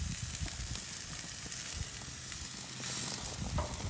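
Pork chops sizzle on a grill with a steady, dense crackle and hiss, up close and continuous, with occasional pops and no talking.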